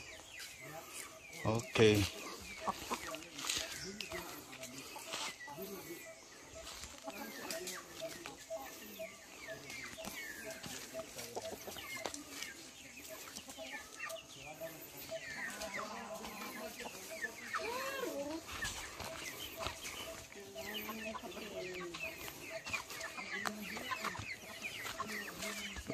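Chickens clucking in a farmyard coop, scattered calls running steadily throughout under frequent nearby talk, with one louder burst near the start.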